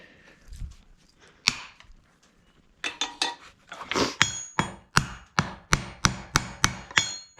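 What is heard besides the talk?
hammering copper rivets to fix leather pads on horseshoe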